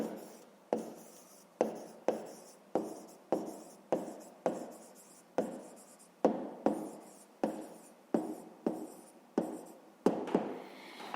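A pen writes fractions by hand on paper, about seventeen short scratchy strokes in a steady rhythm, close and quiet with no talking.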